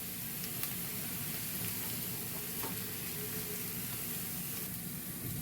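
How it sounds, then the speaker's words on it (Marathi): Chopped onions sauté in a pan with turmeric and chili powder for stuffed eggplant, a steady close sizzle with faint stirring scrapes. "कांदा इथे छान परतून घेतलाय आपण."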